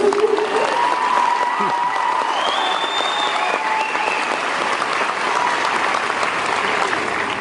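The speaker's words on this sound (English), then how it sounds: "Oh yeah, we can clap for him." A crowd at a high school graduation ceremony claps for the class salutatorian, a thick, continuous roar of many hands at fairly even loudness throughout, with faint voices mixed underneath.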